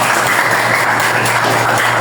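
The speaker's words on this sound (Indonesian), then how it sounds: "tepuk tangan buat Pak Ujian" Applause for a participant in an Indonesian classroom lesson, a steady dense wash of clapping held at even loudness throughout with a low hum underneath.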